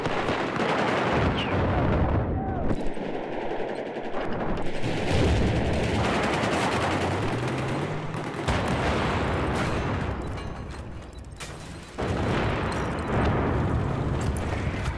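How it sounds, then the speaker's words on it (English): Gunfire and explosions from Battlefield 4 during a Shanghai multiplayer match, with an enemy tank pushing in. Dense, continuous bursts of shots and booms fill the whole span with no one speaking. "They're pushing real hard. That's an enemy tank."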